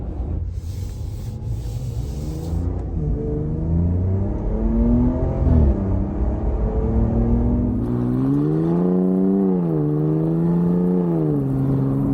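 A 2025 Ram RHO truck engine revs repeatedly, its pitch climbing and falling in smooth sweeps, loud and close, with a steady rumbling idle between the revs and no talking.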